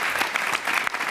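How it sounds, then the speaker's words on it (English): Audience applause for a colleague at a New York City mayoral personnel announcement, a steady wash of clapping from a crowd that fills the whole short moment without any talk. "give him a clap because he really is wonderful"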